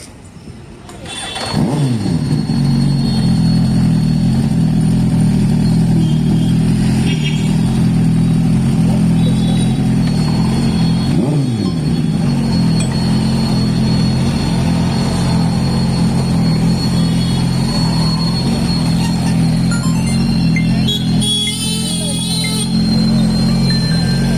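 A motorbike engine starts and settles into a loud, steady idle with a couple of brief revs, staying close and continuous for the whole stretch, with voices faintly underneath.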